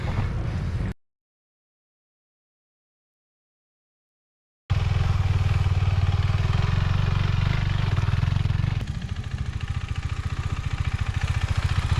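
Adventure motorcycle climbing a small hill during basic riding practice: a steady, loud engine drone with clattering, cut out by a few seconds of silence, then returning and shifting to a rougher, pulsing tone as the rider accelerates.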